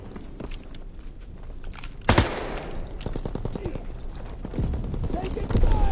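Gunfire in a PS4 military shooter game, with repeated sharp shots and bursts through a busy battle mix, one loud close blast near the middle and steady firing after it, with voices in the background.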